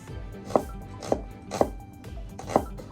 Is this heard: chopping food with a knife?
yes